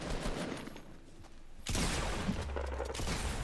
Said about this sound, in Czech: a všude se střílí, proboha, postřílejte se tam sami